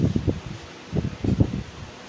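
An electric fan running close by during a prayer gathering, its airflow buffeting the microphone in uneven, low rumbling gusts with short lulls between them.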